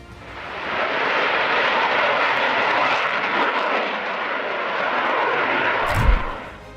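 Military jet aircraft engines give a loud, steady broadband roar that swells slightly and holds, with a short thump near the end and no voices.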